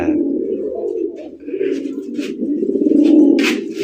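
A pigeon coos in a sustained, low, rolling call close by, with faint chirps and brief voices in the background.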